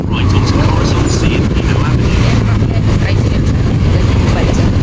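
A motorcycle engine labors up a steep road, a loud continuous drone mixed with heavy wind buffeting, while people talk over it.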